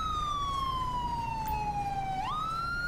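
An ambulance siren from the police game GTA V with the LSPDFR mod wails steadily, a single loud electronic tone sliding slowly down and then jumping back up near the end, heard alone without talk.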